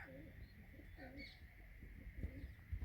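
Pigeons cooing softly in a rural yard among young birds, with low rolling coos and faint chirps over a murmuring background and a few dull thumps near the end.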